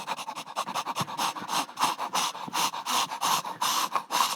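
A person imitates a dog panting and sniffing, making quick rhythmic breathy puffs in a steady run of short bursts, close and clear, with no other sounds.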